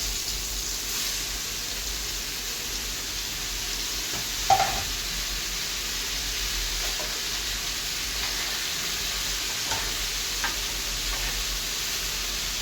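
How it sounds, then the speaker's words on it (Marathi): Mushrooms frying in oil in a pan for a mushroom bhaji, giving a soft, steady sizzle with a few faint ticks and stirring knocks, quiet and continuous with no talking. "सर्वप्रथम मशरूम मी फ्राय करून घेते"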